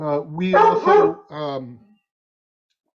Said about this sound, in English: Sorry about my dog participating.